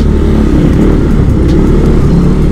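A KTM motorcycle fitted with a JBT silent killer exhaust pipe revs loudly up close, a steady, thick, rumbling engine drone with no talking.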